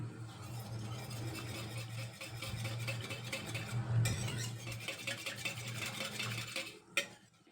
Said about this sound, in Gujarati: બરાબર સરખી રીતના આપણે હલાવી લઈશું.